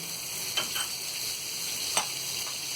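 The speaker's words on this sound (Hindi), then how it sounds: "अब हम एक पैन लेंगे, उसमें हम ये बटर डालेंगे" Butter sizzles in a hot frying pan, a soft continuous hiss close by with a few light scraping clicks of stirring and no talking.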